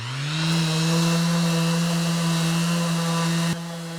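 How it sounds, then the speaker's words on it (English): A power sander on wood runs with a steady mechanical whine and a strong low hum throughout, loud and continuous, then drops off abruptly near the end. "what's gonna happen when you start sanding this"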